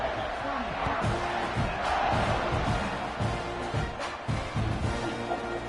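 A football game crowd roars and murmurs steadily in a stadium after a touchdown and extra point, a dense wall of cheering that stays under a commentator's voice.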